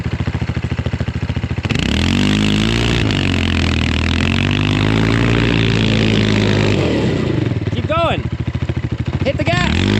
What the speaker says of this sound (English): Hit the gas as hard as you can.